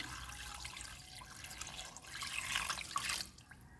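Water poured into a pot for beef bone soup makes a faint, steady splashing stream that swells briefly toward the end before tapering off, with no talking.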